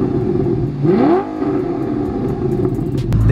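A manual Audi R8 with a V8 engine and loud exhaust revs up sharply and then holds a steady, droning note, close and continuous.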